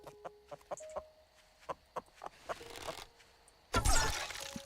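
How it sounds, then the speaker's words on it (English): Chicken clucking in the survival video game 7 Days to Die, a series of short, sharp clucks spaced across the clip, followed by a louder burst of rough noise near the end. "Was that a chicken?"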